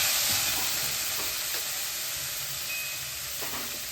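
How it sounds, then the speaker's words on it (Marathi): Chopped onion is sautéed in a hot pan, a close, steady sizzling hiss with soft scraping strokes from stirring at a few points. No one talks. "इथे कांदा परततो"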